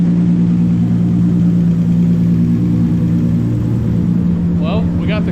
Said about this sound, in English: we got the car warming up